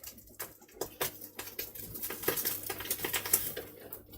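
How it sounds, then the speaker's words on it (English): An egg frying in a pan gives soft, irregular crackling and spitting pops that build slightly over a few seconds, with no voices. "Frying an egg."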